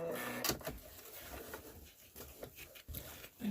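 A sewing machine stitches quilting on a fabric stand mixer cover, running in quick, uneven bursts of mechanical patter with short pauses, close by and moderately loud, with no voices.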